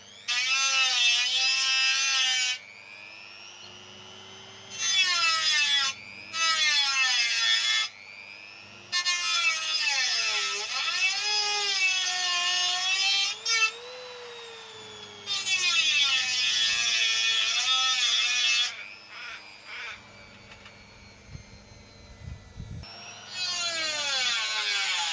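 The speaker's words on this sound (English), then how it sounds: "I'm just going to use a Dremel to dig out the cracks" A cheap rotary tool grinds out cracks in a classic Victa lawn mower, high whining bursts repeated with pauses between them, the pitch bending as the bit bites into the metal, with a faint low hum in the gaps.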